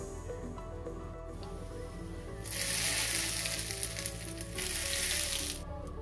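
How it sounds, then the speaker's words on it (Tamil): Mustard seeds and urad dal sizzle and fry in hot sesame oil for a Tamil vallarai keerai thuvaiyal, with two loud bursts of crackling spatter over a steady sizzle and no talking. "இது இப்போ கடுகு உளுத்தம்பருப்பு போட்டு தாளித்து நல்லெண்ணெயில் தாளிக்கலாம்."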